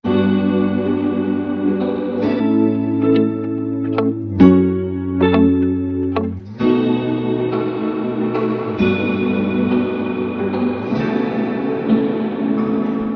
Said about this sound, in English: the reverb still sounds really clear